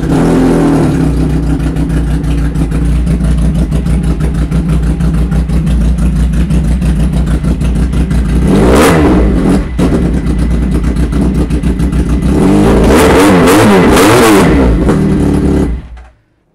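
A 400cc dual sport motorcycle with EFI, a 2023 model, runs loud and close at a dealership, idling steadily with two sharp revs that rise and fall before the engine cuts off at the end.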